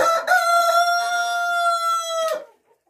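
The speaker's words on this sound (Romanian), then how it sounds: "Aici am o familie de găini pitice" A bantam rooster crows loudly nearby, one long drawn-out call that cuts off abruptly, with faint clucking of bantam hens at the start.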